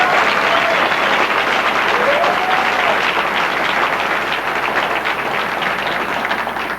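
An audience at a 2002 debutante ball in Vallejo, California applauds a debutante. The clapping is dense and sustained at close range, holds steady for several seconds and tapers off slightly at the end, with faint voices underneath.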